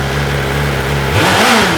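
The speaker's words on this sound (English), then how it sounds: "Sounds like a motorcycle instead of a sewing machine." A BMW S 1000 RR motorcycle fitted with M 1000 RR parts holds a loud, close steady idle, then a sharp throttle blip sends the engine revving up and falling back before settling.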